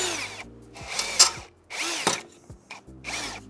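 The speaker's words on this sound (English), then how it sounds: "Drill for rivet, wrenches for brake line. Let's get that rivet out first." A power drill bores out a rivet on a Polaris Sportsman 500 ATV being taken apart, whining in several short bursts that rise and stop between pauses, close and fairly quiet, with no talking.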